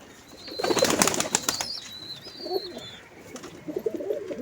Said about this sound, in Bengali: তো এই যে আমার সব পায়রা বাইরে ছেড়ে দিয়েছি